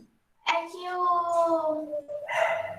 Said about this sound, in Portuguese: Ah, ficou louco o cachorro.